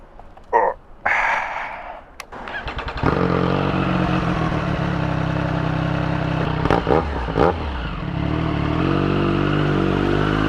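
Triumph Street Triple 765 RS motorcycle ridden through New York City streets near Times Square, engine revving up then holding a steady loud drone with a few throttle blips, close and continuous.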